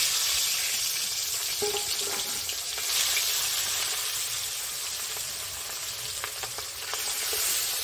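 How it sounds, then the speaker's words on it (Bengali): Rupa patia fish rubbed with salt and turmeric fries in hot mustard oil in a wok at an outdoor riverside kitchen, a steady close sizzle with a few soft clinks and scrapes. "এবার লবণ হলুদ মাখানো মাছ দিয়ে দিচ্ছি।"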